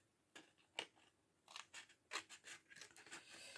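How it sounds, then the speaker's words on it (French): Scissors cutting through glued paper for a large Christmas star craft, a quiet close run of several short crisp snips and rustles at an uneven pace, no talk. "ça me permettra de suivre avec la paire de ciseaux"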